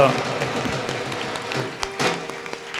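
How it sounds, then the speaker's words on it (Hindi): A congregation at a Bible convention during Holy Mass in Batala applauds for the Lord, with a burst of clapping heard under a voice speaking. "जोरदार तालियां प्रभु के लिए"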